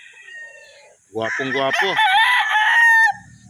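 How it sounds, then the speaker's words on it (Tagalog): A straight-breed gamecock crows once, loud and close, a long ringing call of roughly two seconds, with someone talking quietly before it. "Guwapong manok."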